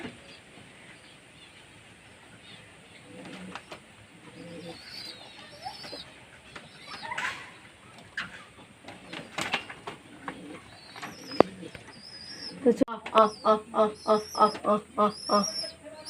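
Pet pigeons drinking vitamin-treated water, with soft scattered bird sounds and light movement at first, then a run of rhythmic, close cooing toward the end.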